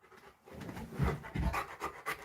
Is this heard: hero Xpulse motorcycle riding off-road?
no